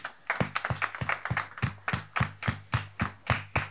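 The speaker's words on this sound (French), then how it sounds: "merci de le recevoir sous vos applaudissements" Audience welcoming a guest to a talk-show set with clapping that falls into a rhythmic unison beat, sharp regular claps roughly three per second, fairly close and clear, with no voices over them.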